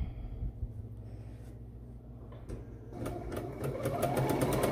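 Sewing machine stitching a fabric seam: quiet handling at first, then from about three seconds a close, steady motor whir with a fast, even needle clatter that keeps running to the end.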